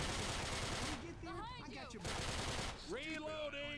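Gunfire in the video game Left 4 Dead, with bursts of shots heard under excited chatter from players talking over each other, the firing fairly loud and close.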